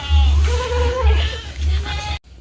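Goats on an eco-friendly goat farm in Gresik bleat loudly and close, several overlapping wavering calls filling the whole clip before cutting off abruptly near the end.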